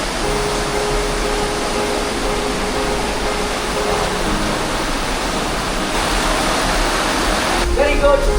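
Steady roar of a waterfall on Lombok, a dense continuous rush of falling water heard close and loud, with faint voices underneath.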